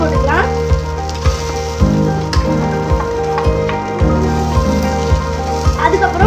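Ingredients for potato stuffed chilli bajji sauté in hot oil, giving a continuous close sizzle with regular clinks and scrapes of a stirring spoon against the pan.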